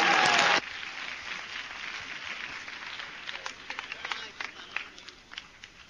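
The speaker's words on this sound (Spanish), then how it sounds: "Un aplauso, por favor." A short loud burst of clapping at an actuarial science congress cuts off abruptly, followed by a quieter room with scattered claps and murmuring voices.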